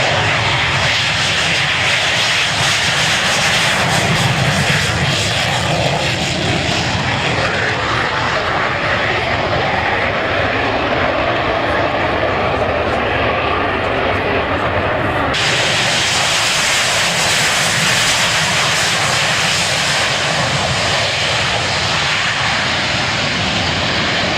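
Aircraft at the Baldonnel air spectacular in June 2000, a loud sustained engine roar with hissing wash that holds throughout, shifting tone partway as the plane passes, no voices over it.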